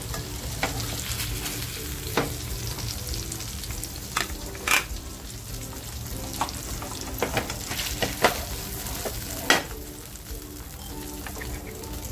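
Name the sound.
mackerel frying in oil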